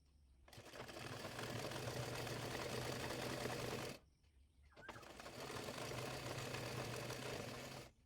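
A sewing machine stitches lace onto a hijab in two long, steady whirring runs, each about three and a half seconds, close and even, separated by a short pause with a faint click.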